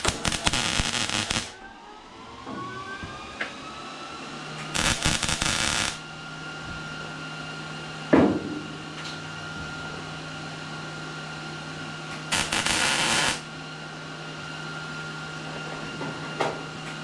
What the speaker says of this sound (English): So let's get some of these welded in.